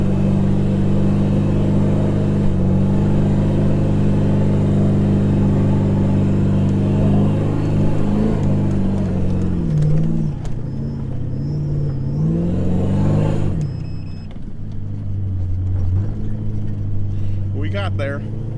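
A Toyota Landcruiser towing a trailer climbs the Big Red sand dune in the Simpson Desert, its engine droning loud and close and changing pitch as it labours and revs, then easing off, with a voice speaking over it.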